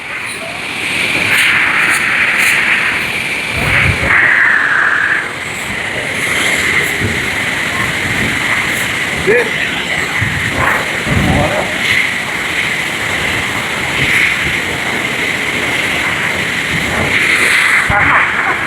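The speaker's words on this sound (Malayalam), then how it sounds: "വെള്ളച്ചാട്ടം എന്ന് പറഞ്ഞാൽ ഇതാണ്" Thusharagiri waterfall roars close and loud as a continuous, rushing wash of falling water, steady for the whole stretch, while a person speaks briefly over it.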